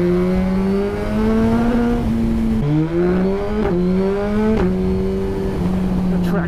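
A Suzuki GSX-R sport motorcycle engine revs hard and climbs in pitch, dipping briefly at each gear change and as traction control engages, before pulling up again, loud and close.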